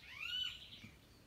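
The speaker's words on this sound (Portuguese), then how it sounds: "Olha os pássaros cantando." A single bird gives a faint, clear rising whistle in the morning, one brief call heard alone against quiet background noise.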